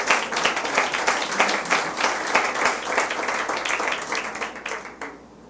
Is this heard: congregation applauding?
yes